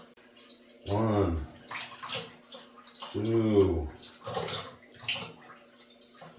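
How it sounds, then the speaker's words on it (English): Tap water runs at a kitchen sink into a tablespoon as an ingredient is measured for Mexican hot chocolate cookies, a soft steady trickle beneath a person counting aloud. "So I'm going to walk over to the sink, put in 3 tablespoons of water."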